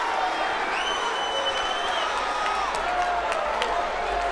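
A boxing arena crowd cheers at a women's professional fight, a steady roar of voices and whistles with sporadic claps, loud and continuous, with a commentator talking over it.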